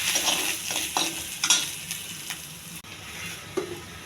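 Ginger pieces fry in hot oil for pulihora, an Indian tamarind rice dish, with crackling sizzle and a few scrapes of a stirring spoon. The sound is close and alone, with no talk.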